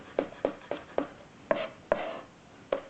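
A knife cuts through chili peppers on a board, seven crisp chops in an uneven rhythm, close and clear in a quiet kitchen.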